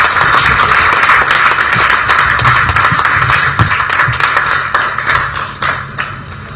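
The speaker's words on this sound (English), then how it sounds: "Can I ask all of us to clap for our dear minister before I invite her?" An indoor audience claps loudly and steadily for the Minister of Education and Sports at a national release of 2024 UACE exam results, the dense applause thinning and fading toward the end.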